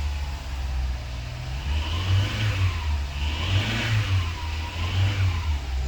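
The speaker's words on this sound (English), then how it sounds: "And if we give it some gas," VW Golf V car engine, a vehicle with no power and no stored fault codes, revving up when given gas, a steady mid-pitched engine hum swelling in repeated rises and falls, close and loud with no talk.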